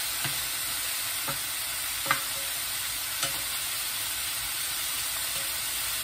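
Chicken curry frying in a pan with a constant bright sizzle, punctuated by several soft clinks and scrapes as it is stirred with a utensil.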